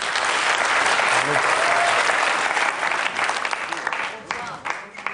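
A TV show studio audience claps loudly and steadily, then the applause thins and tapers off into scattered claps toward the end.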